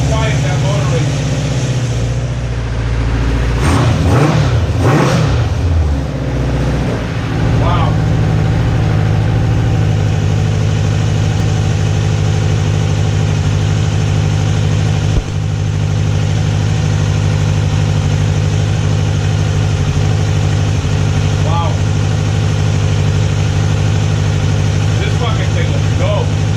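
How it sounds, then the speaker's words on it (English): Kawasaki Concours motorcycle engine, revived after sitting, running quietly with a steady low hum close by, a brief rise in revs early on, then settling into an even idle for the rest of the time. "Listen how quiet that motor is."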